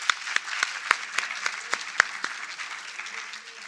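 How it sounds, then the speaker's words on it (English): Conference audience giving a poet another round of applause, a fairly sparse, quieter clapping with individual sharp claps standing out in a loose rhythm that thins toward the end. "if we could just give her once more a round of applause"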